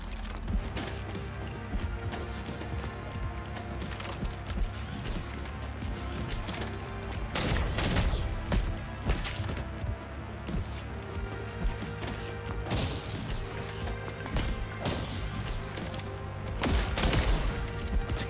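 Gunfire in a video game arrives as repeated loud bursts of shots and impacts scattered through a busy, noisy scene. The heaviest cracks come in clusters toward the middle and later part.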